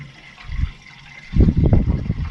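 Hot water poured into the radiator of a Massey Ferguson 865 tractor with a hot engine: a short gurgle, a pause, then a louder, sustained splashing glug of liquid filling the tank up close.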